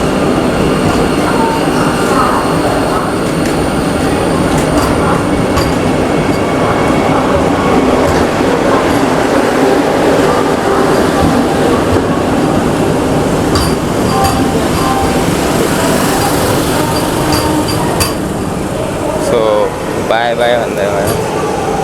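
Inside the Vande Bharat express from Secunderabad to Tirupati, a loud steady rumble and rushing roar go on throughout while the train slows, with a few faint clicks and brief voices near the end.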